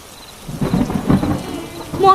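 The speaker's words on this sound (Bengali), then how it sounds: "আর একটু অপেক্ষা করি, দেখি যদি বৃষ্টিটা কিছুটা কমে" Heavy rain with rolling thunder, a low rumble swelling and fading over steady rainfall, with no voices.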